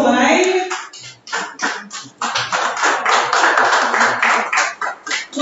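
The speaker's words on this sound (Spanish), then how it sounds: "fuerte el aplauso para él" A crowd applauds a prize winner at a municipal employees' day raffle in Fiambalá, with dense, steady clapping from many hands filling the whole stretch, loud and close, without speech.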